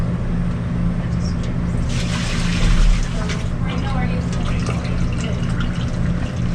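Water draining slowly down a clogged ice bin sink drain, a steady broadband wash of flowing and gurgling liquid with a brief surge near the middle, constant mechanical hum beneath and people talking quietly.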